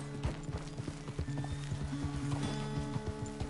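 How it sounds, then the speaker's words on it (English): In the game Red Dead Redemption 2, a horse's hooves clip-clop in an uneven, shuffling rhythm while the animal lets out a drawn-out neigh, fairly close and moderately loud. "The horse can feel your fear."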